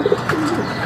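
A racing pigeon gives a brief, soft coo up close, a short throaty call lasting under a second with no talking.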